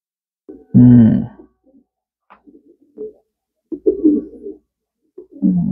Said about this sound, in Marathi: मस्त पक्षी.